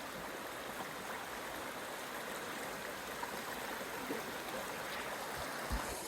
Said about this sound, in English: There's a waterfall behind me and some running water.